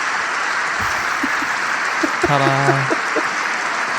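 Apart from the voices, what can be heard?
hand clapping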